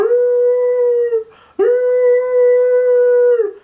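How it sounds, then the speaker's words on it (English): A dog howls loudly and close by in two long, sustained, wavering howls separated by a short breath, with nothing else audible. "So you hear the dog howling, right?"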